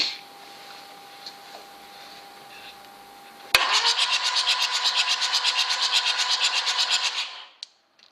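Citroën CX 2200D diesel engine cranked on the starter with its plugs removed, a loud, fast, even rhythmic chugging that runs about three and a half seconds and then stops, after a quieter stretch of background hum.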